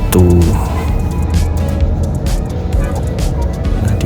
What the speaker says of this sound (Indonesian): Belakang saya mendengar suara seperti bel bis